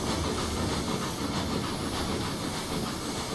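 A 14xx steam locomotive in Train Simulator 2016 on a 1950s Riviera route, giving off a steady, loud, unbroken hiss of steam with a faint rolling rail rumble beneath it.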